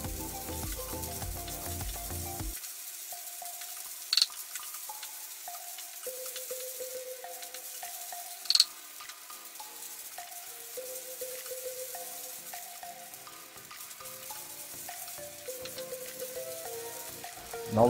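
Onion and ginger sauté in a pan, a steady, soft sizzle and crackle of frying that carries on throughout, with a couple of brief clicks of stirring.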